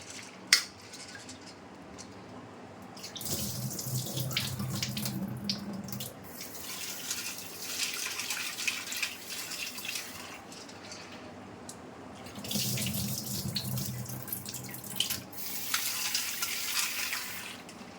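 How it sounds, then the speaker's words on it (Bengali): Chana dal being rinsed under a running kitchen tap, water splashing steadily into a sink with occasional clinks of a metal pot, surging louder in two stretches as the lentils are swirled, no one talking. "একটু ভালো করে ধুতে হবে, কেননা এর মধ্যে একটু পাউডার পাউডার থাকে।"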